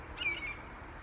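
A crow calls while chasing a hawk near a fir tree outdoors, heard as a brief, faint harsh squawk or two over steady background noise.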